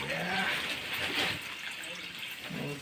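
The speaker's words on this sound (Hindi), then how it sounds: "अब डाल देते हैं पानी का" Water poured into a pan of pakora curry, a soft splashing pour close by that fades slightly partway through, with a faint voice and background sounds near the end.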